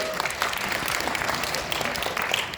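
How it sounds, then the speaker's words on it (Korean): Party members at a Korean political gathering applaud in a steady, dense burst of many hands clapping together, sustained and fairly close throughout with no talk on top. "박수 한번 해주세요."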